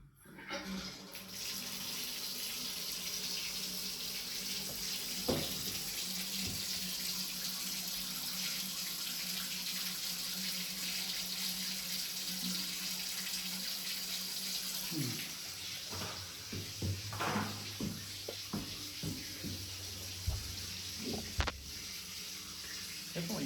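Water running and draining through an unclogged bathroom sink in an 1890 Victorian house, a steady faint rushing flow with occasional gurgles and clunks near the end.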